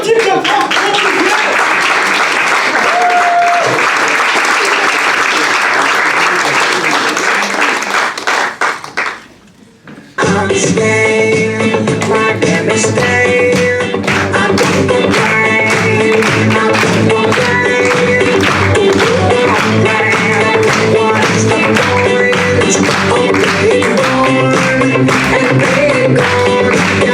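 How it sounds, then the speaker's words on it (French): A comedy-show audience applauds a comedian in a sustained burst. After a brief drop near the middle, loud music with rhythmic clapping takes over and runs to the end. "On applaudit bien fort Olivier"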